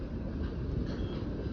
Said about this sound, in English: Man, that was a short train.